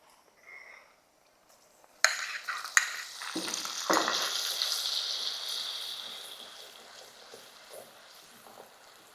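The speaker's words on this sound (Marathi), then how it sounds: "आता आपल्याला ही पेस्ट चांगली अशी फ्राय करून घ्यायची आहे परतवून घ्यायचं आहे" An onion, ginger, garlic and coriander paste hits hot oil with a sudden loud hiss that settles into a close, steady frying sizzle and slowly fades, marked by a few stirring scrapes.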